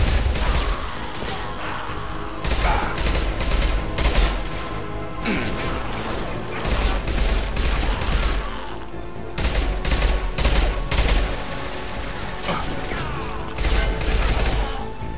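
Gunfire in the sci-fi shooter Mass Effect 2, dense bursts of rapid shots and loud crashes in clusters, close and harsh, with short gaps between volleys.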